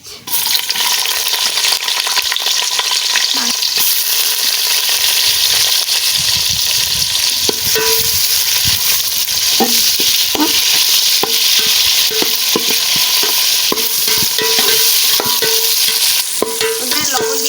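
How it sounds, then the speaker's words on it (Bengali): Onions with a little salt fry in white oil for prawn biryani, a loud continuous sizzle as a utensil stirs and scrapes the pan in repeated strokes. "পেঁয়াজ ভাজার সাথে একটু লবণ দিয়ে দেবো"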